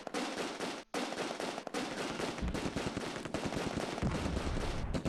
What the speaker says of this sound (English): We'll just use the MG to take this guy's squad out.